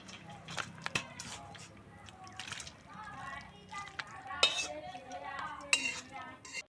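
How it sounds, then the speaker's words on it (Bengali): Cooked jackfruit-prawn curry is transferred from a pan into another vessel, with a string of metallic clinks, scrapes and knocks of utensils against pots while someone talks. "এবার আমি একটা অন্য পাত্রে ঢেলে রাখছি।"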